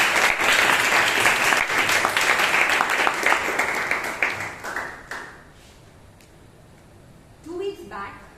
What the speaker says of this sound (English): let us together warmly welcome our guests with a thunderous applause